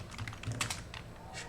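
Rapid, steady typing on a computer keyboard while writing code, a close, busy patter of key clicks with no one speaking.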